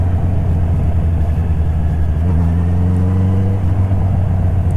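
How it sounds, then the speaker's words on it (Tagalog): A car passes on a highway, its engine hum rising and falling in pitch. It sits under a loud, steady low rumble from the vehicle the recording comes from. "May kotse, may kotse."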